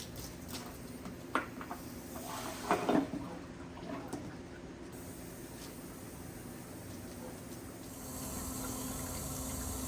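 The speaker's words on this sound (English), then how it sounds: "I basically will just flush this for about an hour with water" Water runs steadily through a Honda VTX motorcycle carburetor as it is flushed, a soft, continuous trickle and splash. A few louder gurgles and drips come near the middle, and the flow grows slightly stronger toward the end.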